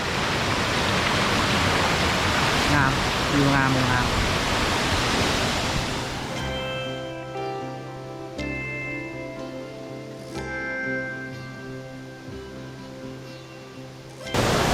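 At the second tier of Tat Ya waterfall, water rushes in a loud, hissing roar, then gives way to musical tones while the rush fades into the background.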